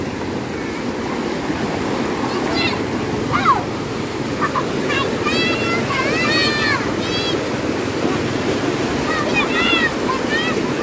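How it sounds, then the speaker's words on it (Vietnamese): A fast-flowing stream in central Vietnam, swollen after a historic flood, rushes with a loud, continuous roar, while voices talk over the water. "Dòng suối còn chảy rất là xiết cả nhà nha."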